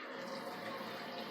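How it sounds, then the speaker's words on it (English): Water poured into buttermilk in a bowl while making biscuit dough, a steady close-up splashing trickle running continuously without pause. "I'm going to add a little bit of water to that to thin it out"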